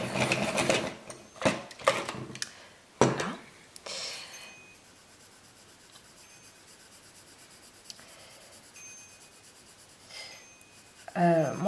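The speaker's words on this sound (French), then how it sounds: "je vais lui donner juste un petit coup de taille" A colored pencil from the Irojiten range being sharpened, a few short scraping, grinding bursts in the first seconds, then mostly quiet with faint rubbing and another brief burst near the end.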